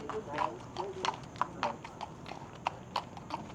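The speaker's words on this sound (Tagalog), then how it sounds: "Ang laki-laki sa mga kabayo rito." Horse hooves clip-clop in a steady walking rhythm on a hard surface in Baguio, with people talking nearby over the hoofbeats.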